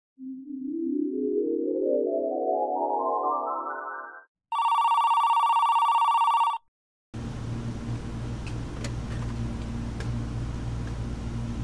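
A telephone at a ramen shop rings loudly and alone: a rising electronic tone sweep, then a steady bright ring burst, followed by busy background noise.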